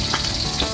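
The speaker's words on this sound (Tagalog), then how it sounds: "Bago po natin ito gataan ay ipiprito muna natin" Sea bass sizzles as it fries in a pan before being simmered in coconut milk for ginataang isda. The crackling is steady and close, with brief louder spatters and no talking.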